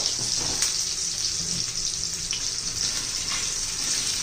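Garlic frying in oil with salt and green chili for a fenugreek leaf dish, making a steady, dense, close sizzle with a bright hiss that holds constant throughout.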